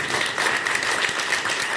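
Schoolchildren at a primary school applauding together, a dense, steady burst of many small hands clapping close by, filling the moment with no talk over it.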